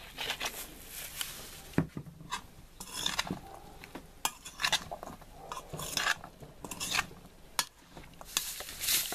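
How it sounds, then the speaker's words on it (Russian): Potato and mushroom pieces are rubbed with sunflower oil before being wrapped in foil for cooking over coals, producing close, irregular scraping, rubbing and light clinking sounds in short bursts. "Поэтому мы немножко все это смажем подсолнечным маслом"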